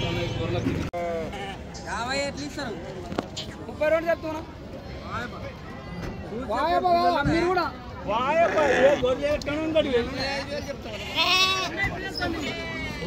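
Many sheep and goats bleat repeatedly at a livestock market, overlapping loudly and close, with people talking in the background among the flock.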